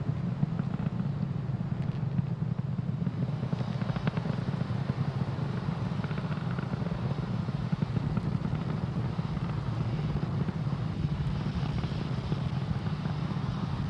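A SpaceX Falcon 9 rocket in supersonic flight gives off a steady, dense roar with a deep rumbling core, holding at an even level throughout with no voices.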